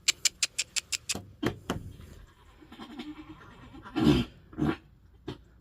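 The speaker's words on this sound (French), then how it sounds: "C'est quoi ce hennissement?" A pony neighs, opening with a rapid string of short whinnying pulses, followed by scattered louder calls and snorts, close and fairly faint overall.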